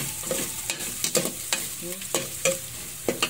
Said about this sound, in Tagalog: Gisa ang bawang.